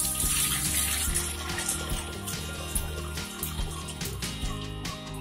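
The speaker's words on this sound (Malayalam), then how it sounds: "ഇനി പുളിവെള്ളം ഒഴിക്കുമ്പോൾ നോക്കിക്കോണം." Tamarind water is poured over cleaned Ayala fish in a bowl, a close, running splash and gurgle of liquid that fades slightly, with a faint clatter at the end.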